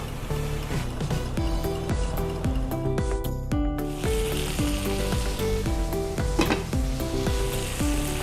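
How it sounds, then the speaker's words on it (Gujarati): Okra with salt, turmeric and red chili powder fries in a pan, a moderate sizzle largely buried under prominent rhythmic background music, with no speech. "સોલ્ટ, હલ્દી, લાલ મિર્ચ પાવડર અને એને મિક્સ કરી લઈશું."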